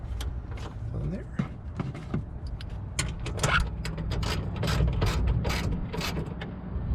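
A ratchet clicks in quick bursts while snugging nuts on a Roto-Fab cold air intake fitted to a 2019-2020 Chevy Silverado with the 5.3L or 6.2L V8, sharp close mechanical ticks over a low garage hum.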